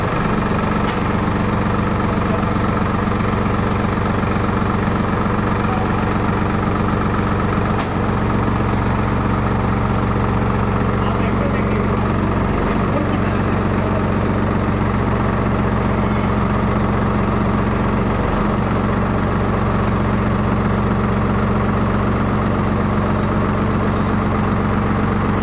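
A Solis tractor engine idles steadily, with a constant low diesel rumble that is loud and close throughout. A few faint clicks and knocks sit on top of it.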